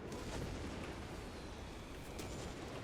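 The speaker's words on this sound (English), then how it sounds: "Oh no, it's British artillery to weaken it." Distant British artillery fire in Company of Heroes 3 on a winter battlefield, a steady low rumble of booms and bursts blending into continuous battle noise, faint and unbroken.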